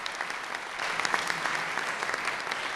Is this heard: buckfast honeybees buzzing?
no